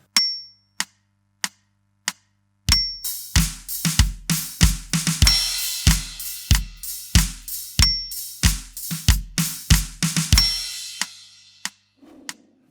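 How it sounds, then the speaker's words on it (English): Drum kit line played at 94 BPM: a few count-in clicks, then a steady close groove of kick, snare on 2 and 4, and hi-hat, with a repeated fill before fading out. "So this line in its entirety at 94 BPM sounds like this."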